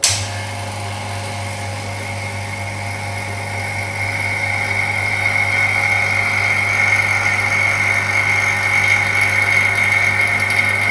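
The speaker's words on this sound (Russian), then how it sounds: "Соединяем нашу трубу с насосом, спускаем листок и включаем насос." A vacuum pump drawing the air out of a tube in a science show runs steadily and close by, a continuous mechanical hum with a whining tone that grows slightly louder as it keeps going.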